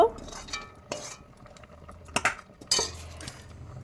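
Khichuri stirred inside a pressure cooker, with a few sharp metallic scrapes and clinks of a spoon against the pot spread across a short stretch, fairly close, over a quiet kitchen background.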